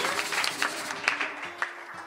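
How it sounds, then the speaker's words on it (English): A prayer meeting congregation gives a round of applause, with soft scattered claps that thin out and fade over a couple of seconds. "Let's give them a round of applause"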